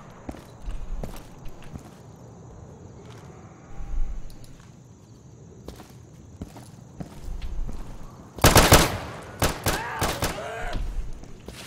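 Gunfire in the tactical shooter Insurgency, scattered shots with thuds and footsteps, building to a loud close burst of rapid fire near the end followed by a few more sharp reports.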